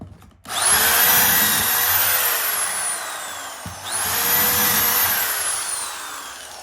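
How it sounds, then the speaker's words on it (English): Power drill driving screws into a window frame, with two long high-pitched whirring runs, the motor pitch slowly falling as each screw seats, loud and close with a brief pause between them. "I just like spreading the screws out a little bit."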